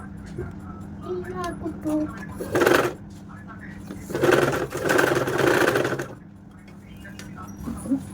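A sewing machine stitches the shoulder seam of a child's frock in short bursts, with a longer run near the middle, while someone speaks in Telugu throughout.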